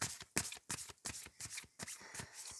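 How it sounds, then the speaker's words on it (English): Tarot cards are shuffled by hand in quick, crisp riffling bursts, about a dozen close, soft flutters separated by short pauses, with no talking. "Let's shuffle and see what your message is."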